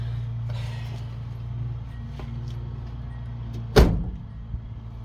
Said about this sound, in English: Still got a good solid door to it.